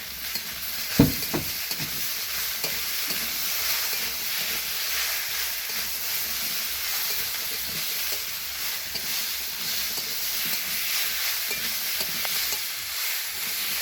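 Spice paste of radhuni seeds being stir-fried into a Bengali shukto vegetable curry, a steady close frying sizzle with soft spoon scrapes and stirring clinks throughout.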